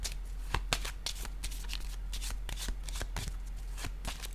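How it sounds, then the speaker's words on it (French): Playing cards being handled and placed on a table, a run of sharp papery snaps and flicks at irregular intervals over a low steady hum. "Je vais déposer une autre carte."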